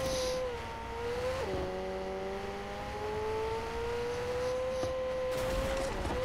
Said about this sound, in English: I'm driving the wrong way.